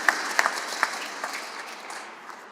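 Audience applause at a museum of aeronautics inauguration ceremony, a few sharp claps at first and then a soft, fading patter from a modest crowd over about two seconds.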